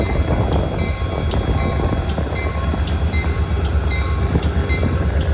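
A freight train hauling grain loads rolls along the rails alongside a pacing vehicle, a loud, continuous rumble with rhythmic wheel clatter and wind noise, steady throughout.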